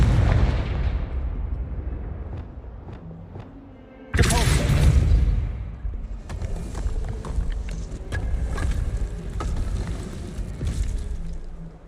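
Confringo blast spells explode in the Hogwarts Legacy video game: one sudden loud burst lands midway after quieter rumbling, followed by a sustained crackling, rumbling tail of further blasts.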